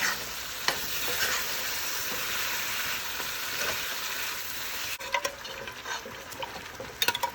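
Goat chops dropped into cooked masala in an Indian curry pan, sizzling and crackling steadily throughout, with a few sharper spits and stirring clatters toward the end.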